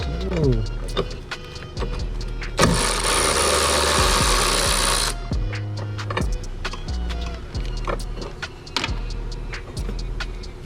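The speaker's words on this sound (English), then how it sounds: "So now you're going to remove the 2 bolts that are right here, 2 10mm bolts" Removing two 10mm bolts on a Honda Civic Type R, with a burst of power-tool whirring for a few seconds amid scattered metallic clicks and taps, close up in a quiet garage.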